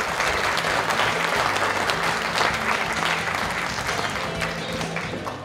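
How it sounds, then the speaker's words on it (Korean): Dense, steady applause from a large audience at a Democratic Party leadership candidates' joint rally in Jeju, sustained and loud throughout with faint background murmur. "수고해주신 후보자 모두에게 격려의 박수를 부탁드리겠습니다."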